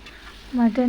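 Mutton drops into a pan of fried spice paste, bursting into a short, loud sizzle after a quiet moment.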